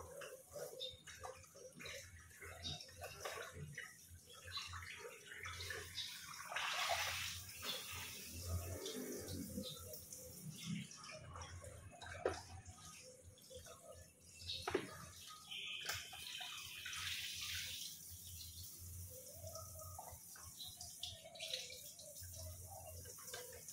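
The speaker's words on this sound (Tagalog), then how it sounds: "Hugasan po natin mabuti." Tilapia fish washed by hand under a running kitchen tap, with a steady rush of water splashing over fish and into the basin, broken by clatter and shifting splashes as the fish are handled.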